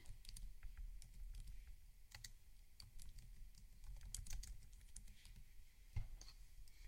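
Soft, close keyboard clicks as a shortcut is typed on a computer keyboard, a scattered run of keypresses with one sharper tap near the end and no talking.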